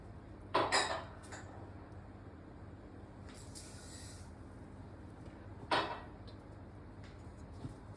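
A couple of sharp metallic clinks of a spoon against a pot while sugar is spooned in for kunafa syrup, with a short scraping sound between them, in an otherwise quiet room.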